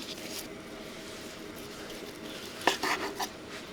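Pork pieces fry in a pan until the skin tightens, giving a soft, steady sizzle with a brief clatter of utensils against the pan near the end.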